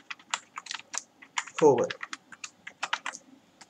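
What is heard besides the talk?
typing code on a computer keyboard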